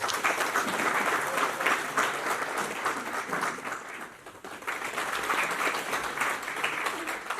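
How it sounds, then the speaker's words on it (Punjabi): Sustained audience applause fills a 2019 memorial gathering, steady and dense throughout with a brief dip midway before the clapping swells again. "ਤਾੜੀਆਂ ਦੀ ਗੂੰਜ ਦੇ ਵਿੱਚ"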